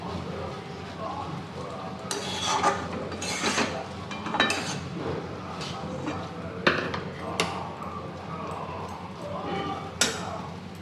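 Chow mein noodles are stirred in a pan for a quick breakfast, with repeated metallic scrapes and clinks of a utensil against the pan at an irregular pace, some louder knocks standing out.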